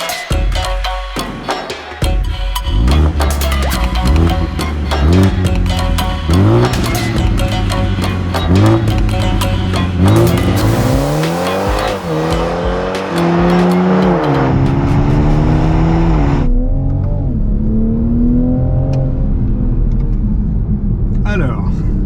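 Toyota GR Supra turbo inline-six, rated 340 horsepower, driven hard on a circuit, loud engine climbing through rising revs with gear shifts and tire noise, a voice talking over it.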